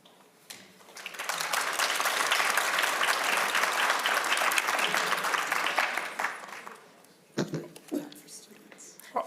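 Audience applause for students at an education committee hearing, a sustained burst of clapping that swells, holds for several seconds and fades, followed by a few scattered claps and murmurs.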